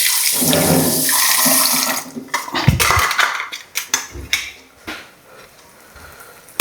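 Fish for a Kerala fish curry is washed under a running tap, with a strong steady stream of water into a sink at first, then splashes, handling clatter and intermittent gushes as the pieces are rinsed.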